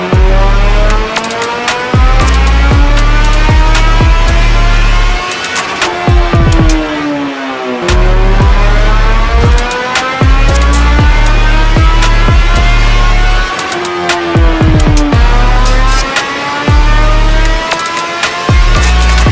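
Suzuki Hayabusa motorcycle, a 2024 model fitted with DIY velocity stacks, revs hard on a dyno in repeated loud pulls, the engine note climbing steeply through each run and dropping back before rising again, with no talking.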